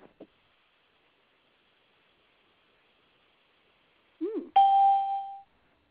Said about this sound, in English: Lots of little bells.